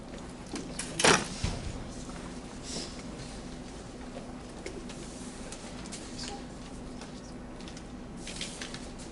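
A bird coos once inside a room, a brief soft call early on, followed by faint shuffling and low room noise.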